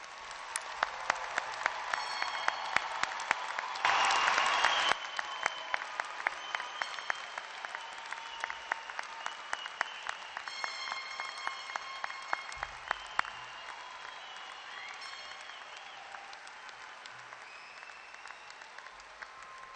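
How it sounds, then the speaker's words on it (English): Sustained applause from a graduation commencement audience honoring degree recipients, dense steady clapping from a large crowd lasting the whole stretch, slightly louder early then settling. "Let's give the degree recipients a round of applause."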